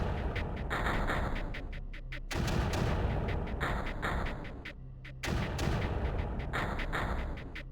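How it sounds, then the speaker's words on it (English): Mortar firing in the video game Creeper World, repeated booming shots and thuds over a dense, continuous rumbling game soundscape, loud throughout. "Very helpful, that mortar up there."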